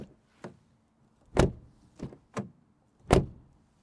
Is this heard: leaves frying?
no